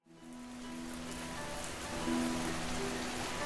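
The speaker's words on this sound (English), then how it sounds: "Rain is the recurring miracle of the Kalahari" Steady rain falls in the Kalahari desert, an even, continuous hiss of drops on the ground that swells slightly partway through, with a faint hum underneath and no voices.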